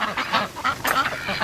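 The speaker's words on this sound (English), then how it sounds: "There's the duck." Muscovy ducks give a quick series of close, raspy quacks and honks, overlapping one another in a short busy burst.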